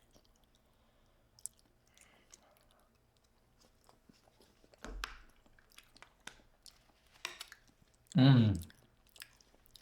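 Mac and cheese from Dave's Hot Chicken being chewed close to the mic: soft, sticky mouth sounds and small clicks, with one louder wet burst near the end and a short murmur of approval.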